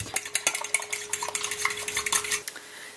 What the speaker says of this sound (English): Now I'm gonna whisk it all.